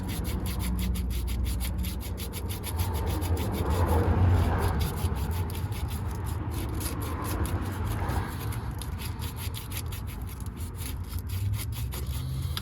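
Continuous rough rubbing and scraping, like sandpaper worked back and forth by hand on a Toyota MR2 short shifter part, steady and close with no talking.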